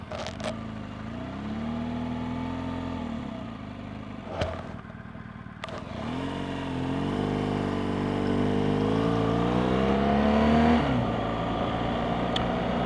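A 2018 BMW R1200GS Adventure motorcycle engine idles, clicks into first gear, then pulls away, its revs rising steadily in a smooth climbing drone, close and moderately loud with no talk.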